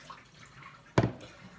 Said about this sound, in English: Now it wants 135 grams of water. I just use tap water